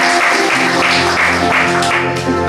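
A church congregation applauding during a Sunday service, loud continuous clapping mixed with sustained music tones and crowd noise, steady throughout.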